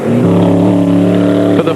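Mitsubishi Pajero rally car racing in the Dakar Rally, its engine droning loud and close with a steady held pitch that shifts near the end, as if changing gear.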